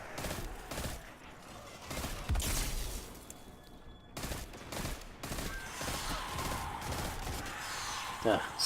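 Bursts of gunfire from the video game Destiny 2 crackle and pop in irregular volleys, some sharp and loud, others more distant, filling most of the stretch.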